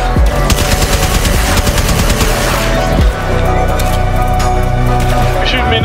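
Sustained loud automatic gunfire and rapid shots in the Deadlock video game, a dense continuous barrage with a brief dip around the middle, and a voice speaking over the shooting.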